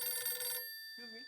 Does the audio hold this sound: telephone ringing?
yes